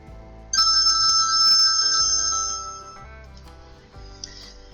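A phone ringtone plays loudly and close, a bright sustained electronic melody with layered tones that rises suddenly and then fades over a few seconds.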